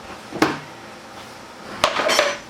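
Plastic storage bucket being opened, two sharp clattering pops of the lid with a scrape between them, close up, no talk.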